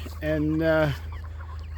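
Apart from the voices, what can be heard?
chickens clucking on a farm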